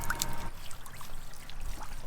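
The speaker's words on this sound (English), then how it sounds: "It's a USB chargeable shower." A USB rechargeable portable shower runs outdoors in the rain in northern Norway, water trickling and splashing steadily at close range, with faint patter around it.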